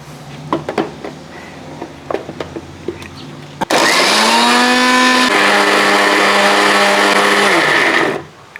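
Electric blender grinding beetroot, apple and carrot for ABC juice, starting abruptly with a loud steady whirring roar that shifts pitch as the load breaks down, then cutting off after several seconds; brief handling clatter precedes it.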